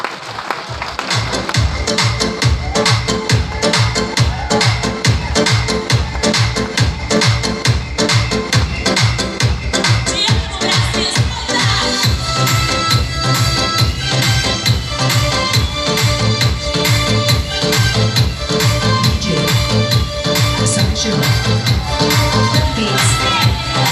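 Dense, steady audience applause fills an auditorium at a direct selling recognition meeting in Jaipur. The rhythmic clapping is loud and continuous and carries on without a break.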